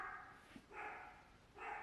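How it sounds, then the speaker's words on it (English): A dog barks in two or three sustained bursts at a moderate distance, with short pauses between them. "the barking is not gonna stop"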